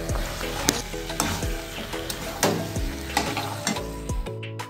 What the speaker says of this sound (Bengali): এই যে এখন চিকেন কষা রান্না করছি